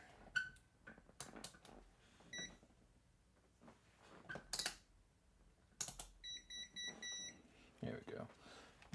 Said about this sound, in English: Now my meter won't shut off, but it'll keep beeping at me to let me know it wants to shut off